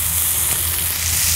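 Sausage fries in a pan over a wood-fed Silverfire Scout camping stove, giving a steady close sizzle with a low hum of fire beneath and no talking.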